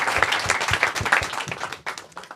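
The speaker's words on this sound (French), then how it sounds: "on applaudit Léa" A small group claps briefly in a dense patter that thins out toward the end, with no talking over it.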